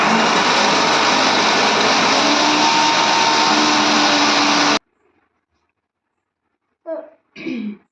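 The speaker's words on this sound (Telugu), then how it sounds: "దీన్ని మనము మిక్సీ ఆన్ చేసి మిక్సీతో" A kitchen mixer grinder whirs loudly and steadily for several seconds while mixing a batter with lentils, then cuts off abruptly, followed by silence and a couple of brief voice sounds.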